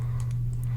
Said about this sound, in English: if I try to type anything on the keyboard itself,